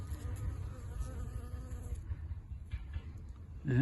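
Hornets buzz steadily at close range around a beehive in an apiary, a dense low droning hum with wings whirring past.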